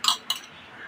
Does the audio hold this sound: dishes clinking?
yes